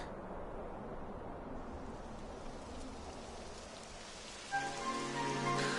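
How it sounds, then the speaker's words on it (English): Rain beginning to fall in the video game Dragon Quest XI S, a steady hiss of drops on surfaces that holds even throughout, with a brighter, louder musical layer entering near the end. "It would have to go and start raining, wouldn't it?"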